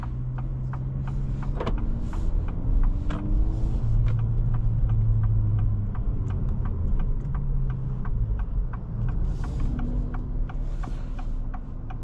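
A 2026 Acura Integra A-Spec with a 6-speed manual gearbox is driven, its engine humming low and steady while the revs rise and fall between shifts, with faint clicks and creaks from the cabin.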